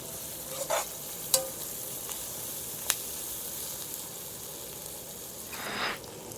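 Masala sautéing in a pan for masala chicken, a low steady sizzle broken by a few sharp clicks of a spoon against the pan and a short swishing stir near the end, quiet and close.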